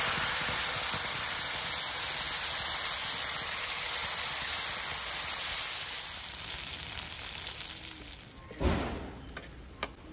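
Ground masala sizzling in ghee for a Mangalorean-style kingfish ghee roast, a loud steady close hiss that fades toward the end, followed by a couple of faint clinks.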